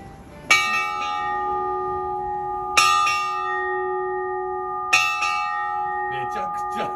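Bell rung at the Kitsuregawa roadside station, three loud clear strikes a couple of seconds apart, each ringing out with a long sustained tone, with faint voices near the end.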